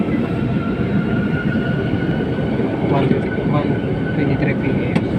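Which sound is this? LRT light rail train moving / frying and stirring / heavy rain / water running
LRT light rail train moving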